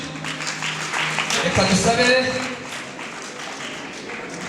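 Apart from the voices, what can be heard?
audience applause at a wedding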